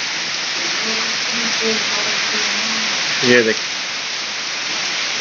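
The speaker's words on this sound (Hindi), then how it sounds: "ये देखें पौधों के ऊपर कितनी खूबसूरत बारिश हो रही है।" Steady, dense hiss of rain falling on garden plants in August, even and close, with someone speaking briefly over it partway through.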